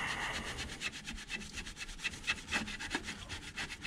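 Repeated rubbing and scraping of old RTV sealant off the flange of an MK4 oil pan on a 1.8T engine, a steady rhythmic back-and-forth scuffing close up with no talking.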